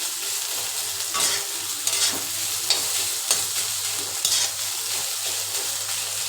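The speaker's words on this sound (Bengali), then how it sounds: "তো বন্ধুরা দেখো ভাজা ভাজা কিন্তু হয়ে আসছে কিন্তু আরেকটু হবে" Chicken pieces sizzle in a hot pan as they are stirred and fried, with a spatula scraping in regular strokes about every second over a constant close frying hiss.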